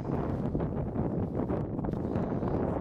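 Icy wind sweeps across a mountain ridge near the Dent des Portes in late October, buffeting the microphone with a steady, close, rumbling roar throughout.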